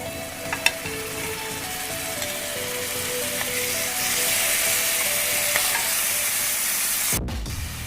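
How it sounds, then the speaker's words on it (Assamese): Tomato paste hitting a pan of frying masala, giving a steady, loud sizzle with faint stirring scrapes throughout that cuts off abruptly near the end. "এতিয়া মই ইয়াতে পেষ্ট কৰি থোৱা বিলাহীখিনি দি দিম"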